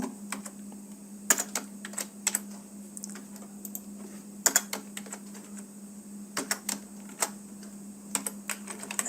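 Keys clatter on a computer keyboard during an HTML website-design lesson, with irregular bursts and single taps over a steady low hum and no talking.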